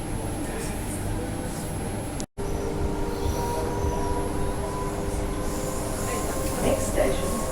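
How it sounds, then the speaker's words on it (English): Perth to Midland all-stations passenger train heard from on board, a steady rumble of running wheels and rail noise with a faint high whine, a brief dropout midway, continuous and fairly close. "This train runs from Perth to Midland, stopping at all stations, except Bayswater."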